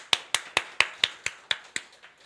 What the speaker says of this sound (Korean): 하나님께 영광의 박수를 돌리겠습니다